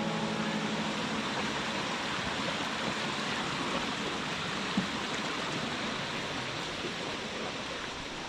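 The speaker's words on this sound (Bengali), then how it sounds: "আমাদের ঝর্ণা দেখা যাচ্ছে, এটা সম্ভবত বাগবিয়ানি ঝর্ণা।" Steady broadband rush of the Baghbiyani waterfall at Napittachora in Sitakunda, a continuous close wash of falling water without pause, no voices.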